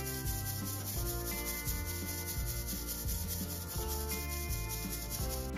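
Hot chunks of homemade maple sugar being sifted, giving a steady, close, grainy rubbing and scraping that runs without pause through the whole stretch.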